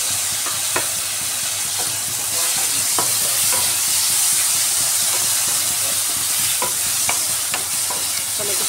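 A large chopped tomato sizzles in a pan for a simple egg biryani, a dense steady hiss close by with occasional sharp clicks and scrapes of stirring, no voices.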